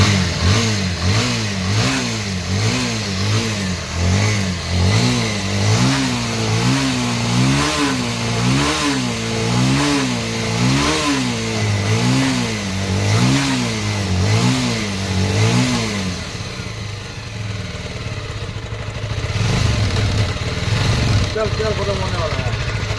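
A Bajaj Avenger 220 BS4 motorcycle with a CDI current fault starts up and revs in steady rhythmic swells for about fifteen seconds, then drops to a rougher, uneven idle. The engine is loud and close.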